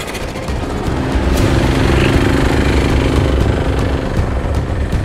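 1.3 go-karts racing on a karting track, a loud steady buzzing engine drone that stays close and continuous, with no talk.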